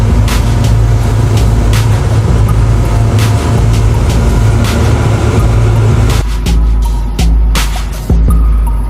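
Loud, steady heavy diesel engine roar of a large off-road haul truck being loaded by a massive excavator, with deep rumble, clanks and thuds from the loading throughout.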